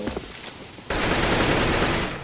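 Rapid automatic gunfire in the Counter-Strike game on the de_dust map, during a competitive ESEA match: a loud, continuous burst of shots that starts abruptly after a quieter moment and lasts about a second.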